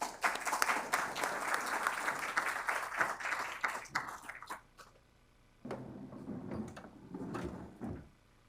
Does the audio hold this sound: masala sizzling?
no